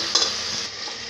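Chicken curry with tomatoes is stirred briefly in a pan, one soft scrape over a low, close sizzle.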